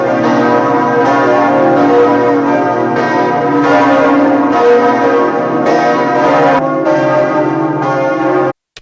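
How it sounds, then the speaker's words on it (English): The large bells of Notre Dame cathedral ringing loudly in a rich, overlapping peal that swells and repeats in steady strokes until it cuts off. "they finally got the bells ringing again"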